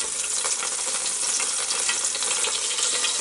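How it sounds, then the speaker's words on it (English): Steady, close sizzling of lemon pepper chicken leg quarters cooking in a Ninja Air Fryer Max XL, a continuous crackling hiss with no talking over it. "chicken's sizzling away in there now"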